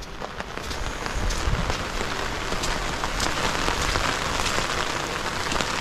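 Heavy rain pours steadily onto surfaces over a flooded ampalaya field, a dense, loud, unbroken patter with scattered sharper drops and no voices.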